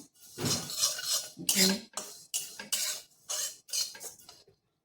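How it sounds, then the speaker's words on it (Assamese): Fenugreek seeds and spices are dry-roasted in a pan, with a spatula scraping and clinking against the metal in about six or seven rhythmic strokes, close and fairly soft. "এতিয়া এইখিনি মই ভাজি ল'ম।"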